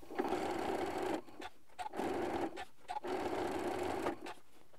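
A sewing machine stitches a seam through ribbon and three layers, including batting, for a Christmas tree decoration. Three steady runs of rapid mechanical whirring are separated by brief pauses.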